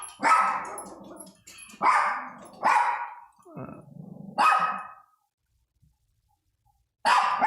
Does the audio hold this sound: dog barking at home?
yes